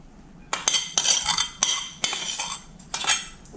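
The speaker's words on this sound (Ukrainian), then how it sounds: "Цибуля охолонула, додаю до м'яса, додаю рис." A spoon clinks and scrapes in a bowl while onion and rice are stirred into minced meat for stuffed peppers, giving several sharp metallic clinks in an uneven rhythm, close and fairly quiet with no talking.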